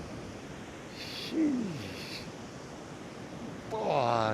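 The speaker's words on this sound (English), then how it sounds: "But these waves are insane." Large sea waves crash against rocks on a remote headland, a continuous roaring wash with wind noise over it, and someone speaks briefly.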